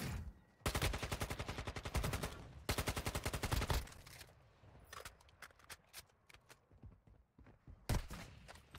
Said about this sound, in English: I shoot back